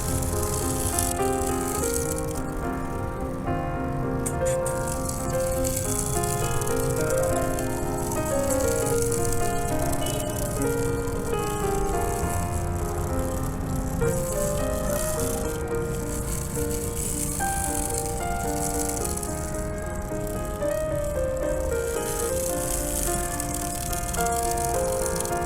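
A small motor-driven universal joint model runs continuously, giving off a busy mechanical rattle and whir with a steady rhythmic ticking, close and unbroken, with no voices.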